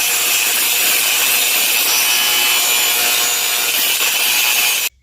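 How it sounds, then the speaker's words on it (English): Rust is scrubbed off a brake caliper bracket from a 2007 Chevrolet Colorado truck in a loud, continuous, harsh abrasive rasp that runs for about five seconds and then stops abruptly. "cleaned all the rust off it"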